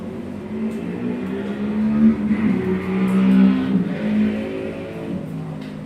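A vintage motorcycle race gets underway at Barber Motorsports Park, a massed pack of engines droning and revving together, swelling and surging steadily at close-to-mid distance with no talk over it.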